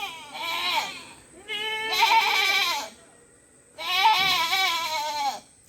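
Several goats bleat loudly and close by in three long, wavering calls with short pauses between them, sounding like crying, on a rainy afternoon at a village home.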